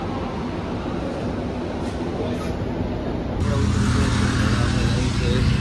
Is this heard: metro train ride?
yes